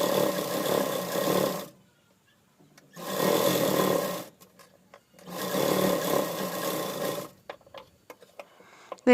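A sewing machine stitches all the way around the edges of a frock's cloth, made from a saree, running in three sustained bursts of steady motor whir separated by short pauses with faint handling noises.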